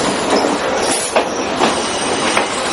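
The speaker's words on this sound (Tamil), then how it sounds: "கொழும்பிலிருந்து மாத்திரை நோக்கி பயணித்த ரயில் 20 நிமிடங்கள் தாமதமாக களுத்துறை ரயில் நிலையத்தை வந்தடைந்துள்ளது" A Ruhunu Kumari passenger train from Colombo pulls into Kalutara railway station, a loud close rumble of wheels on rails with rhythmic clacks and faint squeals throughout.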